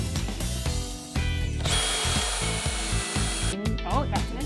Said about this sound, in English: So if I'm drilling in this way